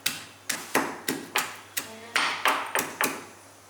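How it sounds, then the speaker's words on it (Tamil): A stone pounds native garlic cloves, nine sharp separate taps spaced about a third of a second apart, close and fairly quiet. "இதை வந்து இந்த மாதிரி கல் வச்சு தட்டிக்கலாம்."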